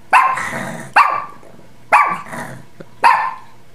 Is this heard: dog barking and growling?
yes